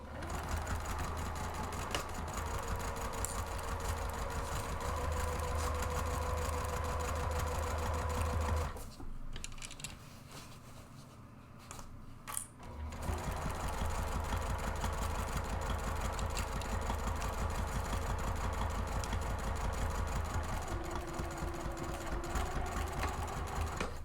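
Sewing machine stitching a purse organizer seam, a steady close motor whir with a rapid needle rhythm running for about nine seconds, pausing briefly, then resuming for another long unbroken run with no voices.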